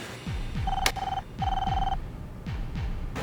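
A telephone rings in two long electronic bursts with a sharp click between, over a faint repeating low sweep in the background; no voices.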